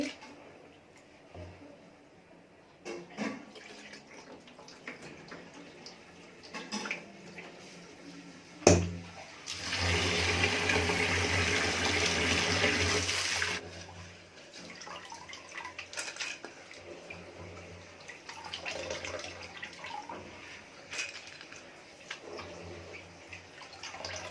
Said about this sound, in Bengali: এখন ডালটাকে ভালো করে কষলে ধুয়ে নিচ্ছি।